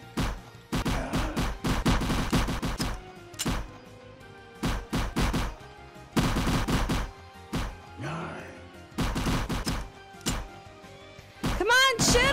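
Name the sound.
gunfire shooting zombies in Roblox video game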